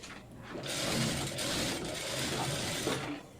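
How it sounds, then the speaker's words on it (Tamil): A sewing machine runs steadily, stitching along the canvas outline of a blouse neckline, its continuous mechanical whir and rapid needle clatter close and loud for a few seconds before stopping. "கேன்வாஸோட அவுட்லைனில் இது மாதிரி நம்ம தையல் போட்டுக்கலாம்"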